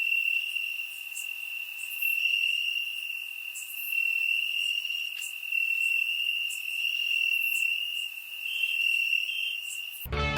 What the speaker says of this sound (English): Crickets, right?